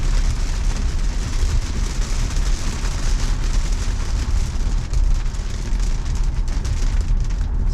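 Steady rain shower drumming on a moving car, a dense, constant hiss with low road rumble underneath, loud and unbroken throughout.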